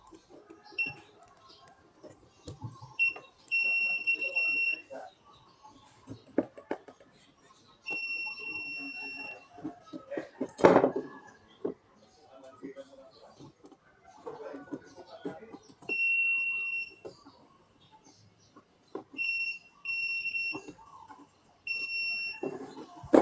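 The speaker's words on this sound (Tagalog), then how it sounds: "Mayroon po akong tester with buzzer guys para sa continuity check." A continuity tester buzzer beeps in several bursts during Toyota Vios electrical checks, steady high tones starting and stopping, over clicks, handling noise and some talk.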